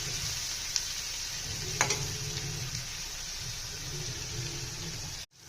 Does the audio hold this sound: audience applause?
no